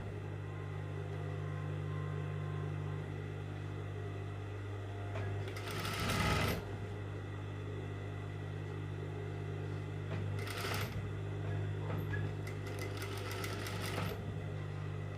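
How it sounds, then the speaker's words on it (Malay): A sewing machine stitches a fabric waistband on a skirt, humming steadily up close, with a few louder bursts of rapid stitching and fabric handling. "kita jahit je."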